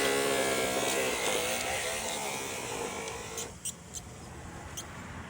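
Small model railroad track cleaning truck running along the rails with a steady electric buzz that fades, followed by a few light high-pitched dings from a ringing bell.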